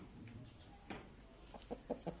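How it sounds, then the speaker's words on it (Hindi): A large Pakistani rooster clucks several times in a short rhythmic run of low clucks, fairly close but quiet, after a single earlier squawk, over faint background noise. "ये माशाल्लाह काफी अच्छा मुर्गा है।"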